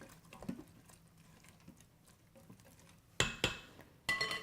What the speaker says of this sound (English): We stir it up.